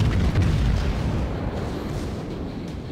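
Battleship shell fire in the World of Warships game, heard as a loud, low, rumbling boom that rolls on and slowly fades over a few seconds.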